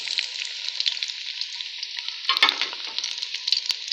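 Fish hitting hot red oil in a pan, a steady loud sizzle that swells and crackles harder partway through as the fish goes in, with no voices.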